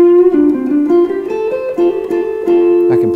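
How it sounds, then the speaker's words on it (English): Clean electric guitar notes through a Fender G-DEC amp, cleaned up by rolling back the guitar's volume knob, ring out alone in a short melodic phrase, bright and sustained with clear harmonics, plucked at a steady moderate pace. "to a nice clean sound just from rolling the volume knob back."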